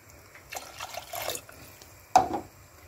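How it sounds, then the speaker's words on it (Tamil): Coconut milk poured into rice in a cooking pot gives a soft liquid splash and trickle, building in short bursts and then a louder pour near the end, fairly close and with no talking. "இப்போ நம்ம இதில் தேங்காய் பால் ஊற்றிடலாம்."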